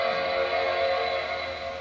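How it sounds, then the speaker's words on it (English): Startup chime of an Apple Mac Mini G4 after a PRAM reset, a sustained, steady electronic tone ringing evenly for about two seconds with no talking. "I was able to get a chime."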